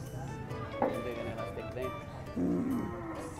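A newly bought cow lows in a farmyard, with two or three drawn-out moos rising over steady background noise while people talk nearby.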